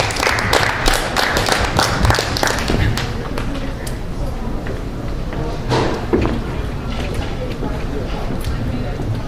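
An open mic crowd applauds, a dense, loud wash of clapping that fills the space continuously with some voices mixed in.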